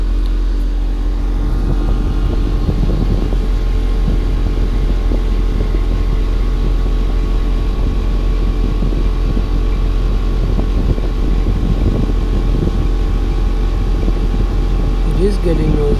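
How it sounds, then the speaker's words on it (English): A noisy TCL ductless split air conditioner runs at a house, a steady loud droning hum with a low rumble that continues unbroken throughout, with faint rustling on top. "This TCL is running right now. It's kind of noisy."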